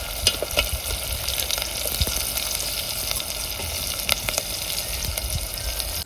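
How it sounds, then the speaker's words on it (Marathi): Onions frying in oil in a pan for a spicy Maharashtrian chicken curry, a steady close sizzle with occasional crackles and stirring scrapes running throughout, with no talk. "तळून घ्यायचंय कांद्याला"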